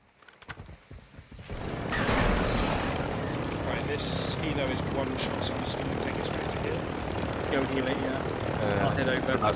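A helicopter in the video game DMZ fills the scene with a steady rotor and engine drone that swells in after a quiet start, while voices talk over it.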